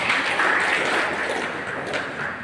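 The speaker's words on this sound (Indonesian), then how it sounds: "Tepuk tangan untuk kita semua." Guests at a government budget briefing in Kotawaringin Barat applaud together, a moderate, steady spatter of clapping from a seated crowd lasting a couple of seconds.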